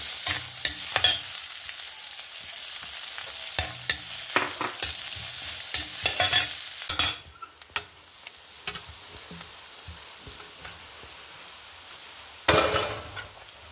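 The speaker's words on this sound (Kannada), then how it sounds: "ಒಂದು ಇಂಚು ಚಕ್ಕೆ ಒಂದೆರಡು ಲವಂಗ ಫ್ರೆಂಡ್ಸ್ ಒಂದೆರಡು ನೀರುಳ್ಳಿ ಸಣ್ಣ ಕತ್ತರಿಸಿ ಇಟ್ಕೊಂಡಿದ್ದೆ ಅದನ್ನು ಹಾಕಂತ ಇದ್ದೆ" Chopped onions with a piece of cinnamon and a couple of cloves in ghee, stirred in a pan: a steady soft sizzle with repeated scraping strokes of a spoon against the pan, busier in the first half and then quieter, with a final burst of stirring.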